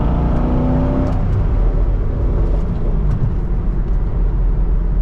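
A Chevrolet C6 Corvette's engine drones loudly and steadily up close as the car accelerates, with a brief change in tone near the start as it shifts gear, then holds a constant rumbling roar.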